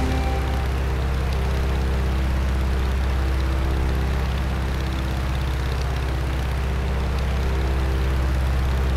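A Stearman biplane's engine in the Microsoft Flight game drones as a steady, loud, low rumbling hum throughout, with no talking.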